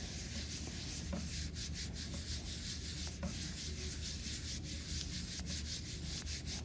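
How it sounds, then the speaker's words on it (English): Fingertips rubbing printing paper over an inked foam printing plate, a close, steady, hissing friction sound that continues without pause. "I'm just going to use the flat pads of my fingers to rub it."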